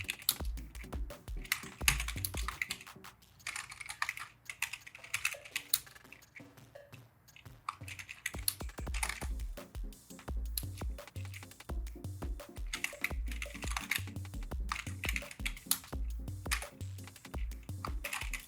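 Typing on a computer keyboard while entering department names into an Excel spreadsheet: a close, steady patter of rapid key clicks running throughout with brief pauses, no talking.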